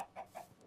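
A chicken in the Minecraft video game gives a couple of short, close clucks that stand out clearly against a quiet background.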